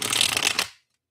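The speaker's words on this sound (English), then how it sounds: "Let me do some preliminary shuffling of these cards." Tarot cards are shuffled in one quick, close riffling burst of papery flutter that cuts off abruptly into silence.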